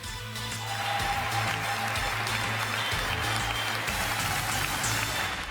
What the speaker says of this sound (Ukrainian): А його промови переривались оплесками.